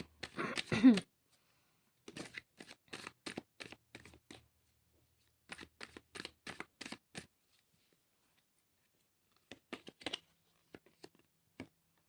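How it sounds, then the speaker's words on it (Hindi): Tarot cards are shuffled and drawn close up in short, crisp bursts of riffling and slapping, separated by quiet pauses, with no talking. "हम कार्ड्स निकाल लेते हैं"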